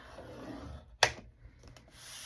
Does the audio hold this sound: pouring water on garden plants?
no